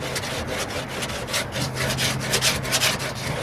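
Stiff sanding board rubbing down semi-cured body filler on a 1968 AMX, rhythmic back-and-forth rasping strokes, close and steady, with no talk.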